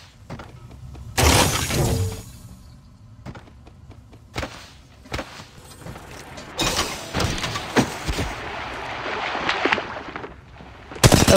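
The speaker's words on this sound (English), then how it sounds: "Opening fire." Gunfire in the battle royale game Apex Legends Mobile: sharp broadband shot bursts and a heavy blast, spaced irregularly through a loud, busy firefight with mechanical clatter between volleys.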